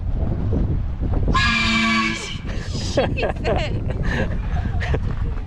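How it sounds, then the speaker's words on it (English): A mine shift whistle sounds steadily for under a second over constant outdoor rumble and wind in Tombstone, Arizona, followed by scattered indistinct voices and background noise. "I think that was a whistle."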